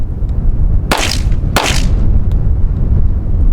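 A Springfield Prodigy pistol fires Winchester Defender 124 grain rounds: two sharp, loud, close shots about 0.7 seconds apart, each ringing briefly over a steady background rumble.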